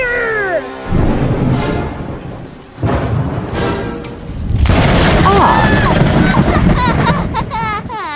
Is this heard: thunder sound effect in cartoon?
yes